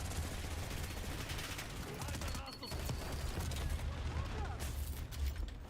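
Steady, dense gunfire from a PC video game played on an RTX 4080 system, a continuous rattling barrage with a heavy low rumble that runs without a break through the whole stretch, while someone talks over it.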